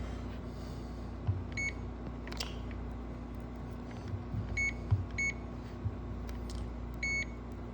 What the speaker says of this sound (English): See how it's making noise? That means there's continuity going through the wires.